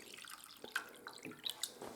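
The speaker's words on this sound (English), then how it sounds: "I'm going to pour a little water in there." Water is poured into a blue bowl, a soft trickling splash at low volume with a few faint bright drips and clinks, no voices.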